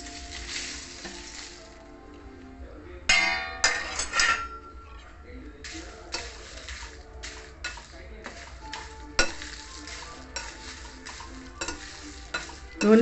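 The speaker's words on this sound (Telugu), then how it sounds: "నూనె లేకుండానే డ్రై రోస్ట్ చేసుకోవాలండి జీలకర్ర మిరపకాయలును." Red chillies and cumin seeds dry-roast in a pan without oil, a quiet rustling toss with sharp bursts of scraping and metal clinks as the pan is stirred, with brief speech in the background.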